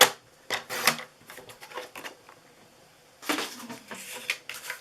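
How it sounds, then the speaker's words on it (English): Paper cut down to size with a trimmer while making a Christmas snowman box, a few sharp close slicing and sliding strokes with clatter in between, heard alone. "let me cut this down really quickly"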